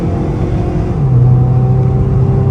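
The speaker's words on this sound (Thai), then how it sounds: "เสียงท่อนุ่มๆครับ เสียงท่อนุ่มๆ เลย" A used Honda Civic FB with a 1.8 i-VTEC R-series engine drives along: a steady, loud engine and exhaust drone rises slightly in pitch as it pulls, heard from inside the car with no talking.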